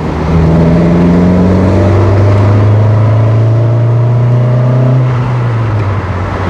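A Kia Elan sports car engine revs loudly from inside the car, its exhaust note rising in a sustained drone for several seconds before easing off.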